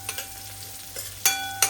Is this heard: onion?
yes